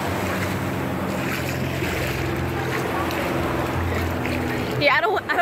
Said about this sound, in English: I'm on Miami Beach with the hubby, and I'm getting in the water.